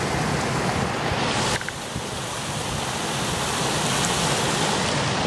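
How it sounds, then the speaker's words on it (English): Three-level waterfall in a Japanese garden pours in a loud, steady broadband rush, continuous and close, with no voices over it. "The waterfall here."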